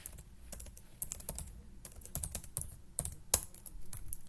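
Someone types commands into a Bash terminal on a computer keyboard, producing rapid close clicks in uneven bursts with one sharper key hit near the end over a faint background hum.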